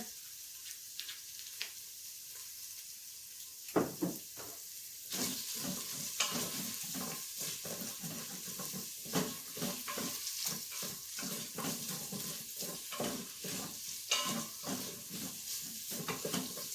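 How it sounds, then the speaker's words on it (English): Sausage browns in an Instant Pot, with a continuous close sizzle and repeated scraping, stirring clacks of a utensil against the pot. No one speaks. "Okay, we get that browned. Okay, we got that browning, the sausage."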